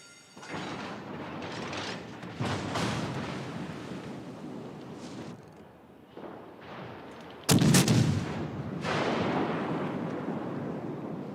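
Warship guns firing high-explosive shells in a naval video game, a series of heavy booming salvos with rumbling tails, one very loud close blast near the end, over a steady sea-like wash.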